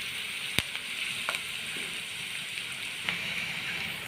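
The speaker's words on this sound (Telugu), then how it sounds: "ఇంకా మధ్య మధ్యలో ఆనియన్స్ని ఫ్రై చేస్తూ ఉండాలండి, మంచి కలర్ వచ్చేలాగా" Onions frying in a pan make a steady, moderately loud sizzle, with a few brief scrapes and clicks of stirring.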